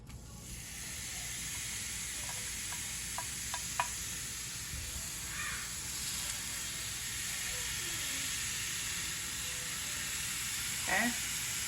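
Steaks sizzling on a hot grill: a steady, moderately quiet hiss of searing meat throughout, broken by a few small clicks and soft clatters from handling, with a faint whistle-like chirp near the end.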